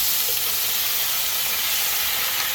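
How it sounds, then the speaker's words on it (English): Potatoes frying in a skillet of grease and butter, giving a steady close broadband sizzle and hiss that runs without a break and with no voices. "Listen to that sizzle."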